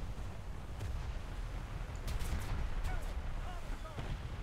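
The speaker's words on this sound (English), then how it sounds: "Fire the cannons!" Ship cannons firing in a naval battle in the video game War Thunder: several heavy booming shots spread across a few seconds over a constant rumbling battle background, with the reports coming in uneven bursts.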